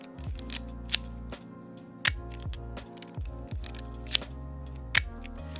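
Mechanical shutter and metal body of a Leica M6 film camera being handled, giving a series of sharp close clicks and snaps at irregular intervals over a low tonal background.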